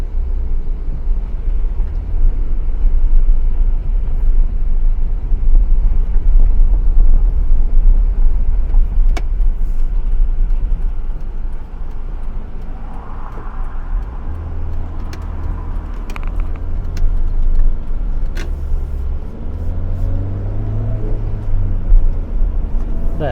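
A 1987 first-generation Honda Civic CRX, original and factory-stock, drives with a loud, steady engine drone and road rumble heard from inside the cabin, easing slightly in pitch midway as it shifts into second gear.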